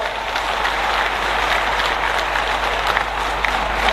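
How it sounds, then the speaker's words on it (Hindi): Loud, sustained applause from a large crowd at an outdoor political rally in a Ramlila ground, a continuous dense roar of clapping with no pauses. "आप सबकी ओर से मैं एक बार फिर माननीय मुख्यमंत्री जी का बहुत बहुत स्वागत करता हूं, जोरदार तालियों के साथ"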